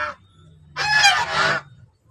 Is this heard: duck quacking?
yes